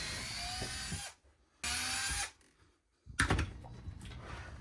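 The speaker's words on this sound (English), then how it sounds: "use a small drill bit and drill through this little hole, through the rubber, through the leather pad" Two loud bursts of high-pitched power drilling with a small bit through rubber and a leather pad on a horseshoe, each about a second long, separated by quiet pauses, followed by clattering handling noise.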